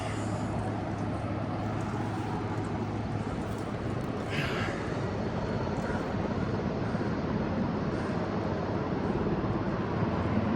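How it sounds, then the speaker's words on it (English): A Sikorsky 61 helicopter working on a logging block just down the mountain makes a steady, broad engine and rotor roar that drones on without a break at middle distance. "The Sikorsky 61 right below me, the next block down the mountain there. It gets pretty noisy sometimes."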